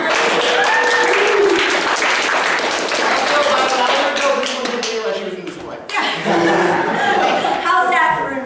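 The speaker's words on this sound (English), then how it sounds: "Let's have a round of applause for them." An audience at a college improv and commedia dell'arte performance applauds, with scattered clapping, chuckles and cheers mixed into loud chatter and voices throughout.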